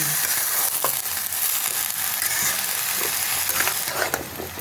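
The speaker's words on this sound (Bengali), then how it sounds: "দিয়ে ভালো করে একটু নাড়াচাড়া করে নেব।" Greens for a Malabar spinach flower dish sizzle in a pan as turmeric and sugar are stirred in, a bright continuous frying hiss with soft scraping strokes of the spoon, close and steady.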